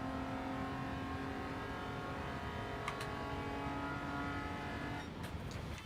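A 1980 Maserati Merak SS racing in Gran Turismo 7, its engine holding a steady, loud drone at high speed throughout, with a brief shift in tone near the end.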